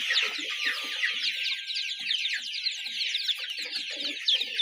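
Ten-day-old Bahama breed chicks, kept alongside a few local desi chicks at a poultry farm, peep in a dense, continuous chorus of high, rapid chirps that fill the whole stretch without pause.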